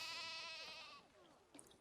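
Dall sheep in the Planet Zoo video game give one loud, close, drawn-out wavering bleat, which fades into quieter game ambience and a brief soft chime.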